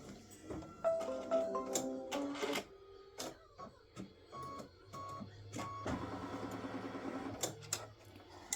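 An in-the-hoop embroidery machine stitches a line on a fabric mug rug panel, producing close mechanical whirring with rhythmic ticking and clattering bursts, brief pauses, then a sustained run of stitching.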